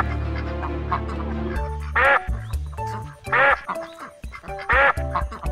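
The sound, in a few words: ducks quacking in a cartoon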